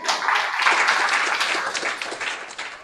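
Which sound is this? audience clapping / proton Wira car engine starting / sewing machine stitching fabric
audience clapping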